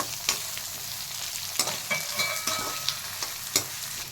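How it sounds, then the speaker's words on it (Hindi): Chopped onions, with cardamom, fry on a medium flame in a pan, giving a steady close sizzle broken by regular scraping stirs of a spoon, with no voices. "गोल्डन ब्राउन ना हो जाए तब तक 5 मिनट तक भूनेंगे प्याज को"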